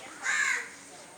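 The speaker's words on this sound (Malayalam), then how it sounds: "അതെ, ശബ്ദം കേൾക്കുന്നുണ്ട് കാക്കയുടെ." A single crow caws once, a short harsh call heard clearly over quiet background.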